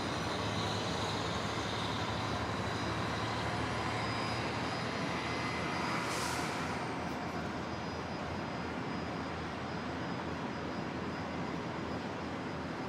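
Virgin Australia airliner arriving from Sydney and landing on runway 01 right at Brisbane International Airport, a loud steady broadband jet roar that holds throughout with no voices.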